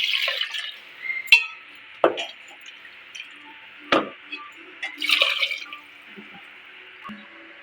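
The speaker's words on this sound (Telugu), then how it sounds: "2 గ్లాసులు నీళ్లు పోసుకుందామండి" Two glasses of water poured into a curry mixture of dry prawns and sorrel leaves: a few short splashing pours and sloshes with drips between them, close and moderately quiet, with no talking.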